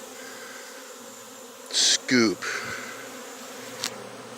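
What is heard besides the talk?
swarm of bees buzzing during bee removal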